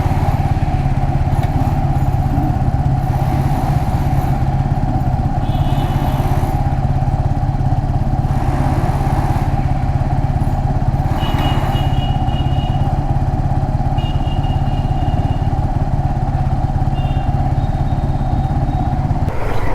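Suzuki Gixxer SF 250 motorcycle engine running after a service at 43000 km, a loud, steady, close idle drone with a continuous low rumble and occasional light mechanical clatter throughout.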